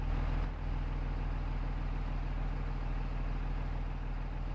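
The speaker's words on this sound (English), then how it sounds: "I need to get this tractor drug out of the road here." A tractor engine in Farming Simulator 22, on the Elk Mountain, Wyoming map, runs at a steady low idle, a constant deep rumbling throb close up with one brief dip near the start and no talk.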